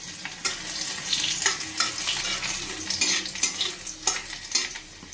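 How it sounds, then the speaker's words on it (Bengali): Chopped garlic frying in oil in a pan, a steady close sizzle with repeated sharp scrapes and clacks of a spatula stirring it, no voices. "রসুনটাকে একটু লাল করে ভেজে নেব।"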